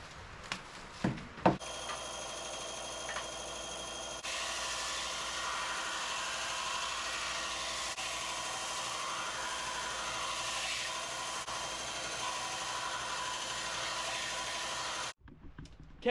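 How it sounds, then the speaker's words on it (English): Belt sander grinding steadily on a knife blade made from a spring, a dense continuous abrasive roar lasting about fourteen seconds after a few brief knocks, then cutting off abruptly. "So, we're going to take and sand this thing down, put an edge on it"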